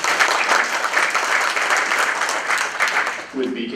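Sustained applause from an audience at a members' meeting, a dense steady wash of many hands clapping, fading as a voice begins speaking at the end.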